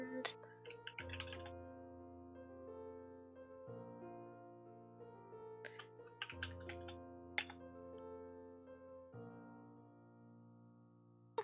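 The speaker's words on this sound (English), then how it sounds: "I'm just typing that out as a pinned message." Computer keyboard keys tapped in short irregular bursts of clicks, fairly close and soft, over a steady low background hum, with a few sharper clacks standing out.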